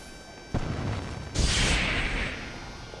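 Incendio fire spell cast in the Harry Potter and the Order of the Phoenix game: a sudden booming onset followed by a bright roaring whoosh of flame that fades over a second.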